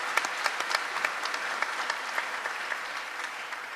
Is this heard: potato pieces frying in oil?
no